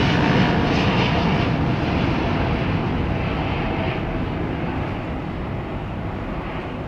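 An airliner departing Heathrow roars loud and steady with jet engine noise, slowly fading a little as it moves away.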